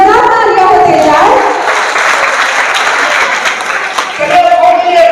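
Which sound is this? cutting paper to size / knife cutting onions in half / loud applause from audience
loud applause from audience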